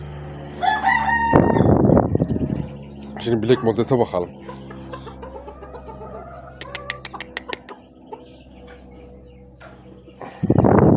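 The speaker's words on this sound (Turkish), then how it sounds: "Ama var ya çok felaket hareketli bir horoz." A very lively rooster crows loudly and close by, with clucks and other fowl sounds between bursts, while someone talks over parts of it.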